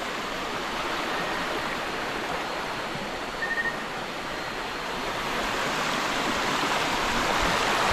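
Steady rushing water flows nearby, a continuous broad hiss from a large river in a forest, with no voices.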